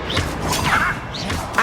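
A Confringo fire spell fired in Hogwarts Legacy gives a loud whooshing blast that churns through the clip and ends in a sharp burst.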